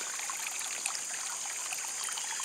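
A small garden water feature trickles and dribbles steadily, a soft, continuous flow heard close up and alone in a quiet outdoor setting.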